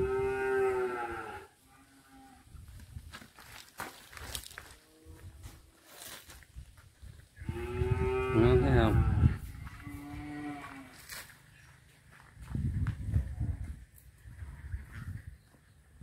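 Cattle offered for sale, including red-faced cows, moo repeatedly outdoors: several long, deep, loud calls spread over the stretch, with shuffling footsteps and low rustling between them.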